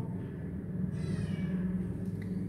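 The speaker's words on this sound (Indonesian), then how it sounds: "ada kucing" A cat meows faintly, under a steady low hum of room noise during an Islamic studies lesson.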